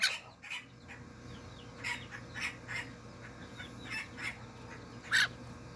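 Chickens give short squawks and clucks at irregular intervals during an eye worm treatment, fairly close, over a low background hum, with one louder call near the end.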